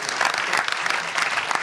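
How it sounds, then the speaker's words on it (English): Audience applause fills a live rugby fan Q&A event hosted by former players, a dense, steady clapping from a sizable crowd lasting a couple of seconds without talk. "Round of applause."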